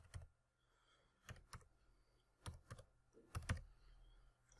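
Typing on a computer keyboard comes in short, irregular bursts of soft, close key clicks with brief pauses between them, quiet and with no talking.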